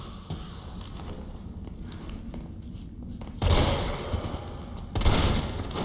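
Two heavy shotgun blasts from Resident Evil 3, each a sudden loud burst with a broad noisy tail, the first around the middle and the second shortly after, over low game ambience.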